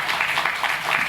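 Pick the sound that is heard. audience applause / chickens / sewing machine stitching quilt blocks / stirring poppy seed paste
audience applause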